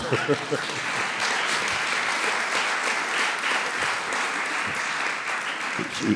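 A conference audience at an animation industry event breaks into sustained applause that stays loud and even, with a voice heard briefly at the start and again near the end.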